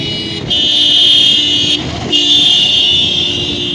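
A loud car horn blares in two long sustained blasts with a brief break between them, close and dominant.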